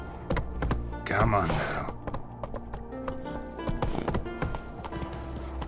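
Geralt's horse Roach galloping in The Witcher 3, steady clip-clop hoofbeats running throughout, with someone talking over them and a brief burst of other game noise.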